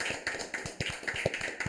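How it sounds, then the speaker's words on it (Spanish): Hand clapping in a podcast studio, a short burst of sharp, irregular claps close to the mic, several hands applauding quickly for under two seconds. "Yo quiero que brindemos un aplauso por este avance"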